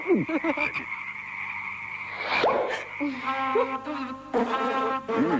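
Frogs croak loudly in a TV commercial, a series of rapid rasping calls and ribbits in bursts, some overlapping, close and clear with no talk.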